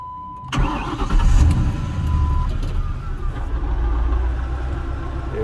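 A 2009 Ford P71 with a swapped-in 5-speed manual cranks after a brief tone, catches with a loud surge, then settles into a steady close rumbling idle with some rattle.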